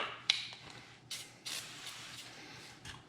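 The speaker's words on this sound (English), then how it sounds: "He's going to spray a little bit on there." Short hissing bursts of butter-flavored Vegeline cooking spray misted over a pie crust, several quick sprays spaced a second or so apart after an initial click of the nozzle, close and fairly soft.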